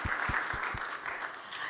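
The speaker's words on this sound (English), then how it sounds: "can we have a round of applause for the organizing team" Conference crowd applauding the organizing team at an open source talk, a thick patter of clapping throughout, with a few heavier nearby claps punctuating the first second.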